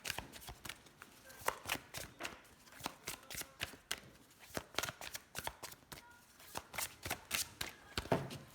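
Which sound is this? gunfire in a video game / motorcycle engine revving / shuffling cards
shuffling cards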